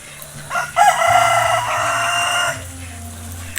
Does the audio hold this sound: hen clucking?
yes